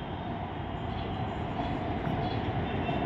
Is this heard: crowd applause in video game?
no